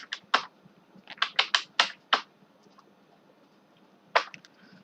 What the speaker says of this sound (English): So I'm typing Y